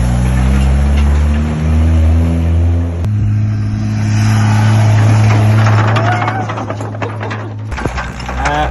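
A Royal Navy tug vehicle drives painfully slowly in top gear. Its engine makes a loud, steady, close drone with a deep hum throughout, and the pitch shifts slightly partway through.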